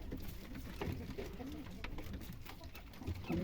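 Soft, low pigeon coos murmur through a noisy, faint background, several birds cooing intermittently.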